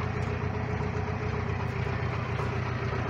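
A heavy ZIL Bychok tow truck engine idles steadily nearby, a constant low rumble with a faint mechanical hum and no talking.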